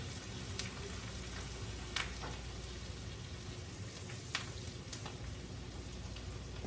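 Onions cook in butter in a pan with a faint, steady low sizzle and occasional tiny pops and crackles, with no one speaking.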